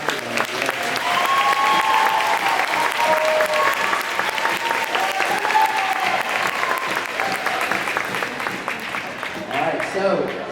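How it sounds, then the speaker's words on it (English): Sustained audience applause for a seventh grade concert band at a junior high spring concert, a dense, steady wash of many clapping hands lasting several seconds and tapering slightly at the end. "let's give a round of applause for the 7th grade concert band"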